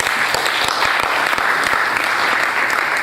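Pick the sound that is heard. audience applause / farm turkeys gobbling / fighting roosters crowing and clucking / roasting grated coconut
audience applause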